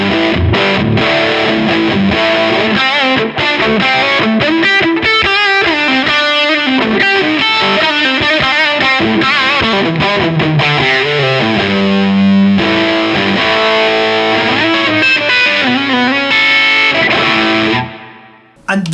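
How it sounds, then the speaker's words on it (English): High-gain distorted electric guitar through a Dumble-style amp, loud and close, with dense chords and sustained lead notes played continuously until a short drop at the end. "Or if I want to go crazy, push a high gain sound in."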